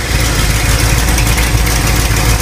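A 350 Chevy V8 idling steadily at about 800 RPM at initial timing, loud and close with an even rumbling drone and no voices.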